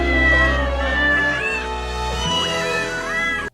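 Several cats meow plaintively at the opening of a film, a loud, continuous chorus of drawn-out, wavering cries that overlap one another.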